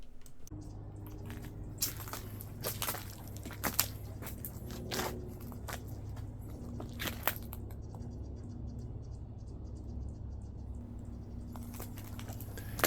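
Footsteps crunch through fallen autumn leaves in a memorial park cemetery in Southern California, a steady irregular pattering of rustling steps close by over a low constant background hum.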